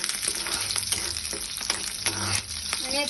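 Ginger and three dried green chilies sauté with browned garlic in a pan, crackling in a busy close-up fry under repeated scrapes of a spoon against the metal.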